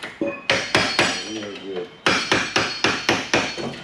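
Sharp hammer strikes on metal while installing an axle and posi unit in a 1995 LS-swapped Impala SS rear end, roughly a dozen loud close blows in uneven bursts, with a brief spoken remark between them.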